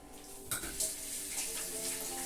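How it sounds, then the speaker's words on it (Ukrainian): Hands are washed under a running kitchen tap while ribs are being prepared for baking, a continuous splashing stream with a few sharper splashes near the start, heard close. "Я мию руки"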